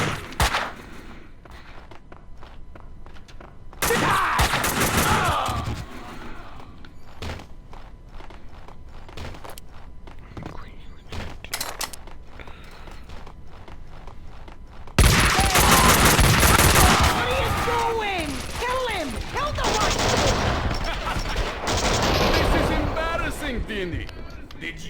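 Gunfire from the Max Payne 2 shooter game on Xbox: scattered gunshots and bursts of rapid fire amid footsteps, growing into a dense loud barrage in the second half, with voices talking over it.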